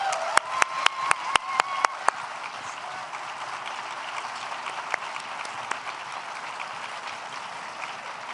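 Audience applause welcomes climate activist and climber Sasha DiGiulian at a live climate change discussion, starting with a few sharp individual claps and swelling into steady, sustained clapping across the hall with no talking.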